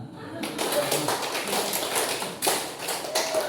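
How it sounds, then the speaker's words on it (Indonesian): An audience at a school teacher-training session plays a clapping game, producing a ragged run of hand claps across a murmuring room, with chatter and voices mixed in. "2 kali tepuk 5."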